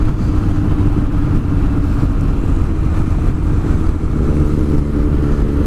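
Steady, loud engine drone from a motorcycle powered by a first-generation, pre-crossplane Yamaha R1 inline-four, running continuously at a fairly even pitch with no voices over it.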